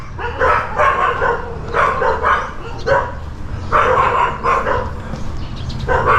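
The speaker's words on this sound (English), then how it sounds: "Dogs." Dogs bark in a neighbourhood during a morning walk, repeated loud bursts of barking in clusters, fairly close, with no talking.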